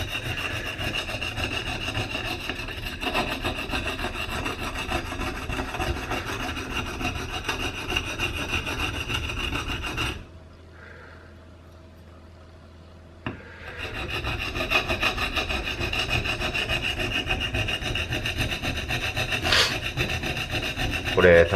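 A chipped kitchen knife edge is held square and ground straight on a sharpening stone, giving a steady, loud, continuous rasping scrape that pauses for about three seconds midway before resuming.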